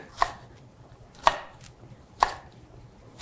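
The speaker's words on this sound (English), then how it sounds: "Green pepper, I need half a cup worth and it needs to be diced." Green pepper diced with a knife on a cutting board: three distinct, evenly spaced chops, crisp and close, with no talking.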